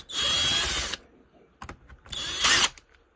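A power drill backing out T27 star screws from a STIHL KM110R trimmer, two loud whirring bursts close by with a short clatter of small clicks between them.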